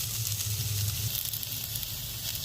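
Chicken liver frying with coriander, green chilli and small onions, giving a constant bright sizzle with a low hum underneath, close and steady throughout.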